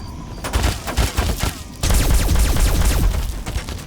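Rapid automatic gunfire from a Mark 7 turret in Fallout 3 rattles in loud bursts, a short pause breaking the fire before it resumes as a continuous stream.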